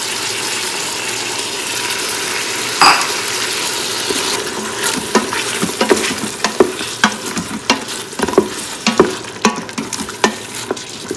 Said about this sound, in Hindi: थोड़ा सा और भूनेंगे।